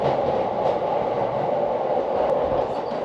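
A Tokyo commuter train runs into Ochanomizu station beside the Kanda River with a steady, close rolling rumble and faint clatter, heard from inside the car without speech.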